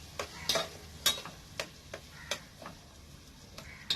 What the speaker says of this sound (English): Okay, that's frying very nicely.